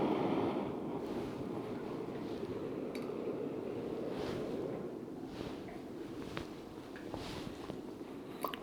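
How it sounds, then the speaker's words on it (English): Strong gusting wind on the north shore of Prince Edward Island, a steady broad rush buffeting the microphone, with faint crackles and rustles scattered through it. "being on the north shore of PEI, we just get this crazy wind most of the time"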